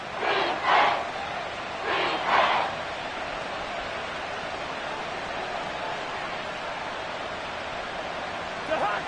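A stadium crowd in a Madden NFL football game roars as a steady, dense wash of noise, with a few louder swells of cheering rising above it and spoken play-by-play commentary mixed in.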